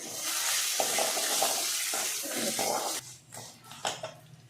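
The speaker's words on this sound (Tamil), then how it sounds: "தேங்காய் நல்லா வதங்கி வரட்டும் வதக்கலாம் கருந்துடக்கூடாது" Grated coconut sautéing with tamarind and salt in a pan, a steady sizzle with stirring scrapes that thins out toward the end, no voices.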